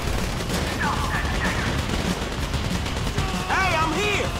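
Rapid bursts of gunfire from a shootout in the video game Grand Theft Auto V crackle loudly and continuously, with excited voices shouting over the shots near the end.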